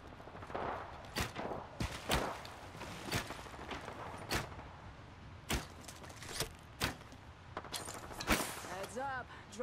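Gunfire in the video game Apex Legends, sharp separate shots and short bursts spread unevenly across a busy fight, fairly faint, with a voice talking over it at times.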